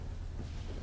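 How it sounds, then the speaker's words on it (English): Thunder rumbles low and steady under a dense wash of rain and wind in the storm-chasing video game Tornado: Research and Rescue, loud and continuous with no voices. "let's just stay and hear lightning and the wind's picking up and it's starting to rain"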